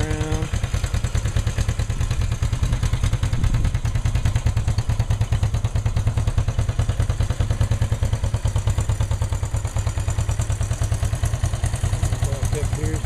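A Honda CL360 scrambler motorcycle engine runs close by at a steady, even idle, its rapid firing pulses continuing unbroken throughout while someone talks over it.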